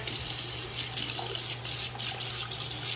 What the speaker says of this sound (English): I'll just kind of splash the water, gets all the hair and stuff out of there